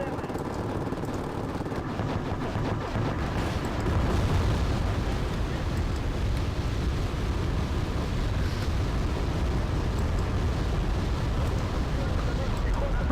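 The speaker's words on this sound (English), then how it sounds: "Where was that bombing run?" Dense, continuous rumbling explosions from a bombing run in the Wargame Airland Battle real-time strategy game, a loud roaring barrage that swells slightly and runs steadily through the whole stretch.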